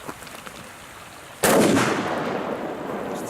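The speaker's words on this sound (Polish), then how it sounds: "Więc zaczynamy od testu luźno położonej petardy na ziemi." A Zena Nitrate firecracker lying loose on the ground outdoors goes off with one sudden, loud bang that rolls into a long, fading echo after a quiet lead-in.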